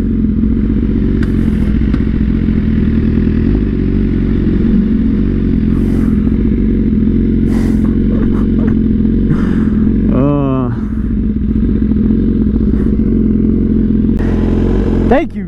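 A motorcycle rides at a steady pace with its engine holding a loud, continuous drone, with scattered clatter and thumps from the road and a short rising whine near the middle.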